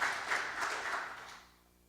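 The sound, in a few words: congregation applause in church service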